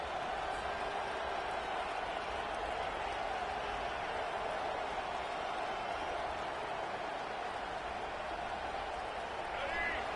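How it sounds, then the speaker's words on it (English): Home crowd at a college football game between Alabama and Tennessee roaring steadily as the defense tries to get off the field on third down, a dense, continuous wash of cheering with a play-by-play voice running over it. "Here comes this home crowd as the defense tries to get off the field on third down."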